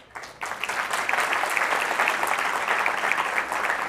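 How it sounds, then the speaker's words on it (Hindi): Sustained audience applause in a lecture-hall setting, a dense wash of many hands clapping that rises after a brief quiet start and holds steady and fairly loud throughout. "अरे तालियां ना मारो यार"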